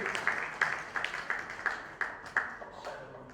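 An audience at a book launch greets a guest with steady, evenly spaced handclaps, a moderate and slightly distant rhythm that keeps going without pause.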